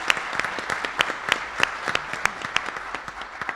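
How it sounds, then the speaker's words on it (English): Steady audience applause at a recycling conference, many hands clapping together with sharp, fairly close individual claps standing out rhythmically throughout. "Let's give them another round of applause."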